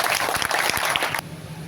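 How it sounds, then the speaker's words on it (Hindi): An audience claps loudly and steadily to welcome a minister at a bridge and road foundation-stone ceremony, the dense clapping filling the first second and then stopping abruptly, leaving a low hum. "अब हम आग्रह करते हैं माननीय मंत्री जी से एक बार जोरदार ताली से इनका स्वागत करेंगे"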